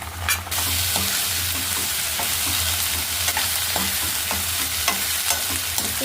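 Onion, curry leaves and ginger garlic paste sizzle steadily in a hot pan, a dense continuous frying hiss broken by occasional stirring scrapes, close and loud throughout.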